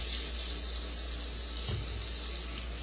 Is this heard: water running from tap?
yes